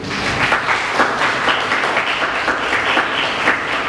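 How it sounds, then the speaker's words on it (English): Steady applause from a school audience at an elocution event, a continuous wash of many clapping hands lasting nearly four seconds, fairly loud and without speech. "Can we have a round of applause,"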